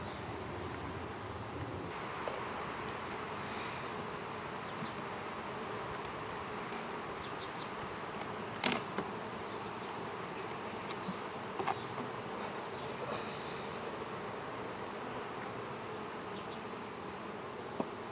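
Honey bees buzz over hive frames holding nectar and brood, a dense continuous hum close to the microphone, with a few faint knocks and rustles and no talk.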